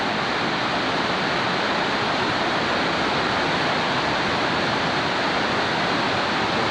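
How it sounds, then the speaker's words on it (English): Cold water rushing steadily down over rocks, a loud, continuous broadband roar with no break and no voices. "Go like that, the water coming down."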